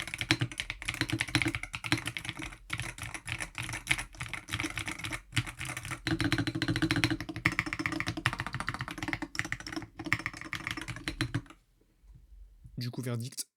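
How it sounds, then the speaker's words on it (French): Mechanical magnetic-switch keyboard keys typed directly on a bare desk, a dense, steady run of close, loud clicks and clacks for about eleven seconds before stopping, with a few final taps. "Là c'est le bruit que font les touches directement sur le bureau."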